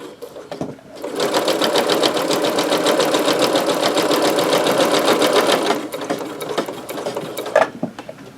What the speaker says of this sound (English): take a stitch and back stitch, and then I'm just gonna sew straight across.